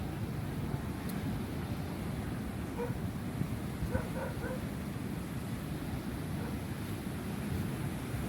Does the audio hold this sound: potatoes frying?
no